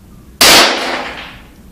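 One sharp, loud handgun shot fired at a target 20 feet away, with a quick crack that fades out over about a second.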